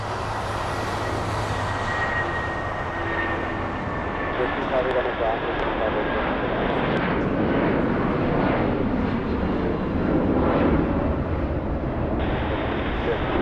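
Boeing 777 jet airliner at Los Angeles International Airport, heard as a loud, continuous engine roar with a steady broadband rumble and whine, while people talk over it.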